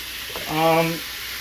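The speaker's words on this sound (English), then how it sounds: "So right now this meat's going to brown a little bit more." Ground meat for lasagna browns in a pan with a steady, moderate sizzling hiss throughout, while a short voice sound rises briefly over it.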